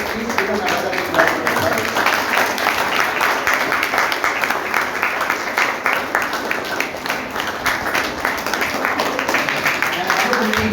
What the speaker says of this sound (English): Please give them another clap.